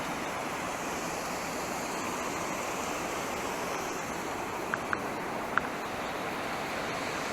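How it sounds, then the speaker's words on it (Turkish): Waterfall rushing steadily at Uzungöl in Trabzon's Çaykara district, a broad, even hiss of falling water with a few faint clicks, continuous and fairly distant. "Şelalemiz de var."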